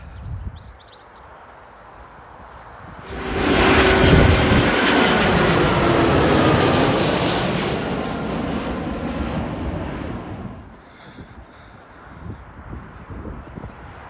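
Fixed-wing airplane flying low on approach to land at Manchester Airport, heard from a road beside the runway: a roaring engine swell that rises sharply, holds loud for several seconds, then fades, with faint birdsong before and after.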